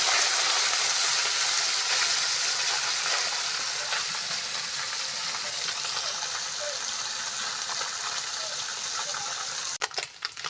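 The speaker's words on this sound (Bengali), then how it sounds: "মাছ ভাজা হয়ে গেছে," Small river fish caught with a push net fry in hot oil in a village kitchen, a steady close broadband sizzle running throughout, with a few brief clatters near the end.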